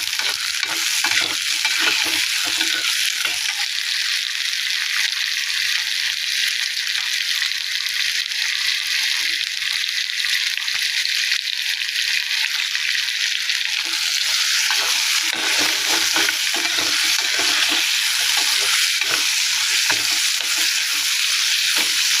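Onions being sautéed for onion chutney, sizzling steadily in a pan with repeated stirring and scraping strokes, close and fairly loud throughout with no talking.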